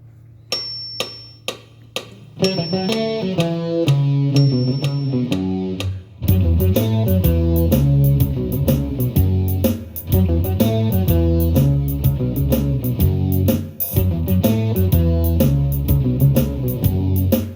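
An electric guitar plays a riff at slow speed: sparse plucked notes and ticking clicks for about six seconds, then a full rhythmic backing track with drums comes in under the repeating riff.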